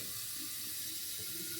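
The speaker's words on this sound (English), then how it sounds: "I fill it with hot water." Hot water running steadily from a tap into a coffee vessel, a continuous close hiss and splash with no talking over it.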